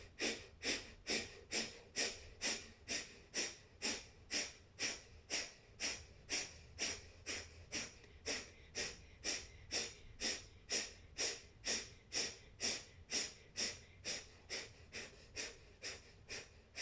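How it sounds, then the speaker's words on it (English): Deep rhythmic breaths during a yoga breathing exercise, a long series of forceful, evenly spaced exhalations through the nose, close and loud with no talking. "Beginning with a deep breath in,"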